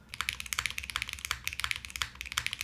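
Someone types quickly on a mechanical keyboard with Honeydew switches, GMK keycaps and a polycarbonate plate, producing close, crisp clacks in an even, fast rhythm, quiet and with no voices.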